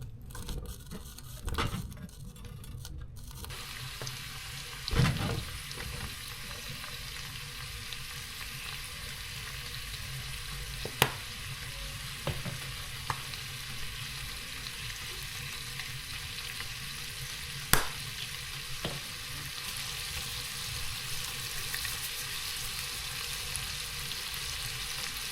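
Steak and fat frying in a pan, a continuous close sizzle with occasional sharp pops and clicks over about twenty-five seconds, no talking.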